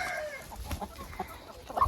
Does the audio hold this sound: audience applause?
no